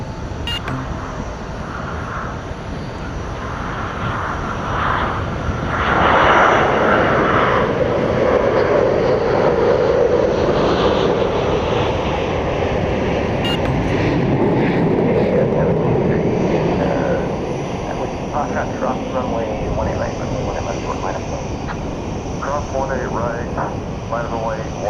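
An EVA Air Boeing 787 comes in to land at DFW Airport at night, a steady jet roar that swells and fades while someone talks over it throughout.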